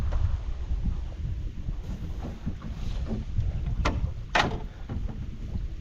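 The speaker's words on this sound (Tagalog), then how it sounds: "Dekrudo ho ang gamit nitong makina." The diesel engine of a small fishing boat out lobster fishing gives a low, continuous rumble, joined by wind buffeting and a couple of sharp knocks, with no talking.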